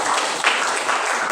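Applause fills a classroom in a continuous, dense patter of many hands clapping at once, loud and close for the whole short stretch.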